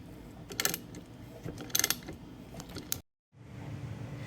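Tools work at the shifter bolts on an EG Honda Civic during a transmission rebuild, with close metallic clicks and ratcheting bursts, then a brief cut to silence before a low hum continues.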